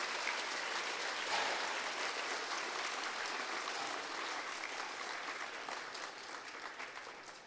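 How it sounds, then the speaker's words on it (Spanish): Sustained applause from a crowd at a Mass opening the school year, loud and even at first, then slowly fading toward the end. "Un aplauso fuerte"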